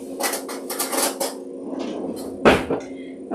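Spoon fetched from a kitchen drawer, with loud close clattering of cutlery and dishes in quick bursts, a sharp clank near the end and brief rummaging between.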